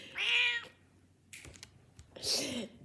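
A pet cat meows indoors during a knitting session, two distinct drawn-out meows about two seconds apart, with faint clicks and rustling between them.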